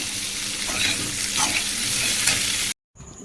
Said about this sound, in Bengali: আর আমি এখানে করছি খিচুড়ি, সব রকম সবজি দিয়ে একটু ভেজে নিচ্ছি।